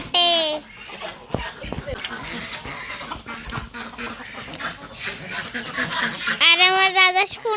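Farmyard chickens let out for the morning, with short clucks and squawks close by and a drawn-out cackle at the start and end, alongside a voice.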